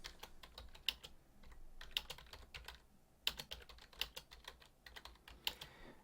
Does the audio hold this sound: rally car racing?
no